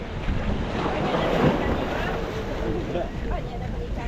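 Strong wind and rough waves at sea off Tanjung Pinggir, a steady blustery roar of wind on the microphone over churning water around a fishing boat, with faint voices underneath.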